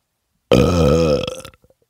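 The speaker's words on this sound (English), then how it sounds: "That was a throat belch." A loud, deliberate throat belch from a man, one sustained low croaking burp lasting about a second, ending in a few small clicks, heard alone against silence.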